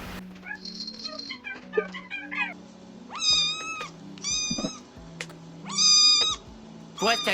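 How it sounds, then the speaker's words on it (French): Cats meow in a run of several long, loud, tonal cries, with a few shorter chirps beforehand, all over a low background hum. "Je comprends chat et chaton, miauler, compilation HD."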